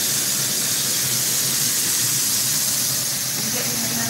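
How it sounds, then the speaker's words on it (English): Beef for country fried steak sizzles in hot oil, a loud, dense, continuous hiss and crackle close by that fills the whole stretch without pause. "Y'all see how fast beef goes when you're frying."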